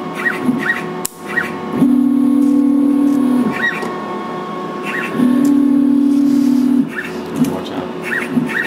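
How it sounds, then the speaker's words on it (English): A redFrog pick and place machine lowers its nozzle to set a cup, producing two sustained motor whines of about a second and a half each, separated by a pause, over a steady hum and faint ticking. "I wrote a tiny G-code to bring the nozzle down and set this cup in the right location vertically."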